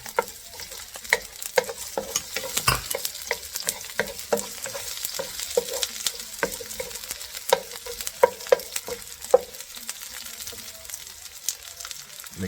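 Garlic sautéing in a pan until golden for pork afritada, a light crackling sizzle with frequent ticking stir strokes and utensil taps throughout.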